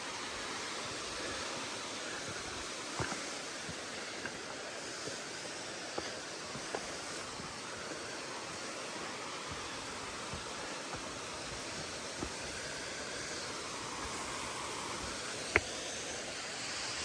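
Bridal Veil Falls near Telluride, Colorado, sends water rushing in a steady, faint, continuous roar, heard from some distance along a trail, with a few small clicks and rustles.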